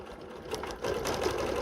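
A sewing machine stitches along the seam of a quilt, a close, rapid mechanical whirring that starts softer and then runs steadily faster.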